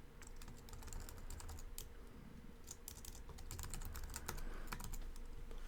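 Steady typing on a computer keyboard during an account sign-up, with quick irregular key clicks running continuously at moderate, close-up volume and no talking.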